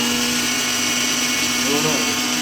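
Electric mixer grinder grinding dry coriander runs with a continuous loud motor whine, dense and unbroken for the whole stretch, with a slight shift in tone near the end.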